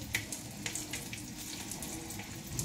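Water poured into a spiced vegetable curry in a hot pan, a steady close hiss and gush with sizzling crackle throughout.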